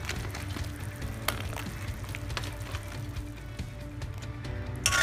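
Idli pieces are tossed and stirred in a hot pan for idli chilli, giving a steady sizzle with scraping and clinks throughout, no voices.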